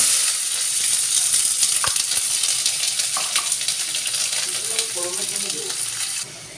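Chopped onion frying in hot mustard oil with dried chillies, cinnamon, cardamom and whole spices, a loud, dense close sizzle with stirring clatter and scraping that eases off at the end.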